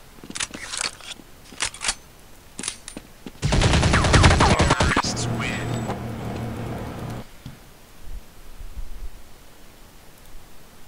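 Gunfire in Counter-Strike: Condition Zero, first a few sharp separate pistol-like shots, then a loud dense burst lasting several seconds, followed by quieter game noise and a faint low hum.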